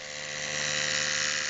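An Oral-B electric toothbrush fitted with a sanding pad whirs at a steady high pitch, loud and close, running without a break.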